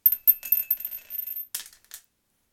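Dice rolled for initiative in a board wargame, a quick run of small hard clicks and rattles as the dice tumble and settle over about two seconds, close and crisp with no talking.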